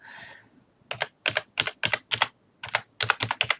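Rapid bursts of keystrokes on a computer keyboard while a folder name is typed, close and crisp, coming in short clustered runs with brief pauses and no talking.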